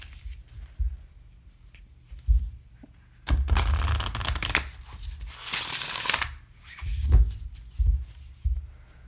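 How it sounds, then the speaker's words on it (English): A wide deck of Flower Medicine Oracle cards is shuffled sideways by hand, giving close, papery riffling bursts in two main runs with softer handling taps between them. "This one is a wide sucker, but it does shuffle well sideways."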